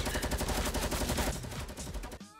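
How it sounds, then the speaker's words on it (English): Dense bursts of Fortnite gunfire from rockets, miniguns and SMGs rattle continuously in rapid overlapping volleys, then cut off abruptly near the end. "I've never seen so many rockets and miniguns and SMGs in my entire lifetime."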